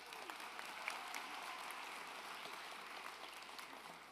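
Graduation ceremony audience applauding for the Class of 2024, a short, even burst of many hands clapping at moderate distance, fairly quiet and without voices over it.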